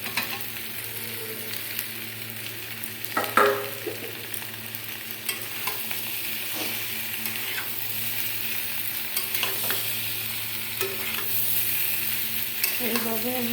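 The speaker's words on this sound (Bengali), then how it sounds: "মাছগুলো আমি ভেজে দেবো।" Fish fries in a pan in a Bengali home kitchen, a steady, moderately quiet sizzle with scattered crackles and spatula knocks, heard alone without talk.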